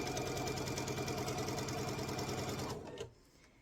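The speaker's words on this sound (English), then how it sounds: "So let's go ahead and sew this." Sewing machine stitching a quilt block seam, a continuous fast mechanical whir running close and steady before stopping abruptly near the end.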